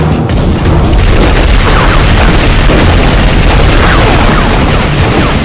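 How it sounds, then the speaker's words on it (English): Grenade explosions in the Halo Reach video game, a continuous loud booming roar of blasts packed tightly together, close and dense with no quiet gaps. "quit chucking grenades at him!"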